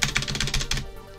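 Rapid run of key presses on an IBM 3270-style mainframe terminal keyboard, about seven sharp, evenly spaced clacks close up, then stopping into quiet.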